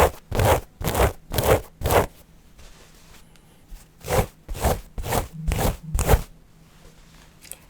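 Sound test of 13-ounce Japanese selvedge 100% cotton denim: a series of quick, muffled rustling rubs and scrapes of the heavy fabric, about a dozen strokes in two bursts with a short pause between, close and alone.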